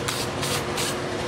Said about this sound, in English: Depending on the type of spray paint you have, depends on how thick you can go